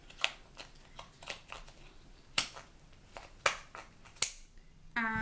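Pinking scissors cutting through yarn strands wrapped around a wide gauge give a string of crisp, irregularly spaced snips, close and clear, ending in a short buzzing sound.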